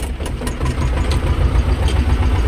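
A T-25 tractor engine runs with a steady, loud low rumble and rattling vibration while pulling discs across a field before plowing, with no other sounds.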